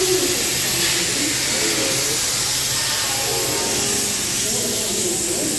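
Hissing, steamy rumble of a train standing at a railway station platform, a constant broadband wash with low rail-yard hum and voices murmuring faintly underneath.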